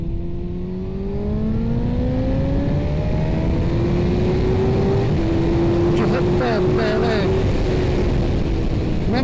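A 2004 Suzuki GSX-R 1000 K4 motorcycle engine revs and pulls hard, its rising harmonic whine climbing steadily and holding high, loud and close, with a brief flurry of throttle blips near the end.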